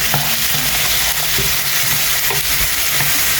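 Onions and green chilies fry in a pan with a loud, constant sizzle, and a few soft stirring knocks come through near the start and middle.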